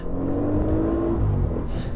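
A 2017 Audi S8 Plus engine revs hard under acceleration toward its 6,850 RPM redline, a loud, rising in-cabin roar with a smooth whir that climbs steadily and dips briefly at the end.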